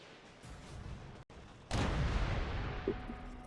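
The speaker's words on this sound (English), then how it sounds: "Oh my god, that was a big explosion." A big explosion bursts in the game Dota 2, a sudden loud boom that rolls into a rumbling, crackling tail after a quieter stretch of game ambience, with a brief dropout just before.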